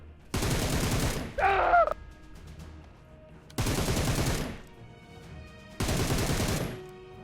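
PUBG Mobile gunfire: three loud, sustained bursts of rapid automatic shots separated by short pauses, with a brief tonal game sound after the first burst.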